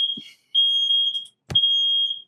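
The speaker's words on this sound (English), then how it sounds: "Was that the fire alarm?" A smoke alarm sounds two long, piercing high beeps while kebabs are cooking, with a brief chirp before them and a dull knock in between.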